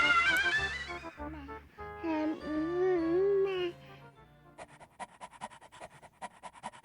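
A dog in King's Quest VII pants in quick, rhythmic breaths near the end, after a stretch of game music with sung or tonal sounds.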